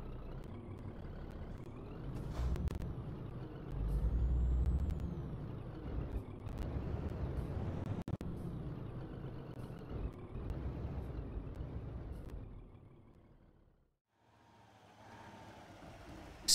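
Truck in the video game Scania Truck Driving Simulator, its engine rumbling steadily with a few sharp hissing air brake releases, then a brief near-silence before the engine drone returns.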